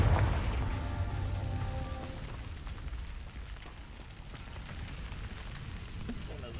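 A Confringo fire-blast spell goes off in Hogwarts Legacy: a voice calls out briefly, then a broad, rumbling explosive burst follows and slowly fades into a sustained crackling roar.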